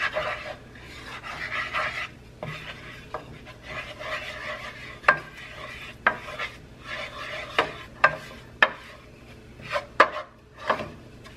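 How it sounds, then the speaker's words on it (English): Half a cup of chili powder stirred into warm oil for Tex-Mex red enchilada sauce with ground beef, giving a soft continuous sizzle broken by a run of sharp utensil scrapes and clacks against the pan, close and alone with no talking. "When your oil gets warm enough, you're gonna add the 1/2 cup of the Views chili powder."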